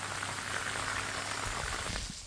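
A powerful stream of water from a well pump gushes and splashes steadily at close range, a dense bubbling rush with no pauses and no talk.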